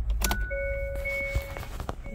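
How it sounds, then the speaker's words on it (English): A new key goes into the ignition of a 2021 Hyundai Sonata: keys jangle and click, then the car lets out a steady electronic chime, close and clear with no talking. "Insert the next key."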